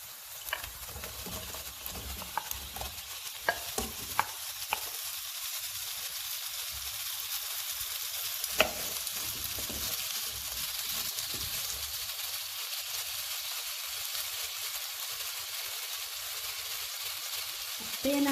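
Potatoes go into a pan of calamari and parsley stems frying in oil, giving a steady, soft sizzle with a few scattered clicks and taps near the start.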